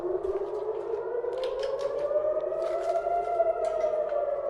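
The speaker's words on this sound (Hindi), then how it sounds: "तो सायरन बज गई है।" An air raid siren wails during a missile attack in Israel, a rising and sustained tone heard from a distance, with faint scattered background sounds and no talk.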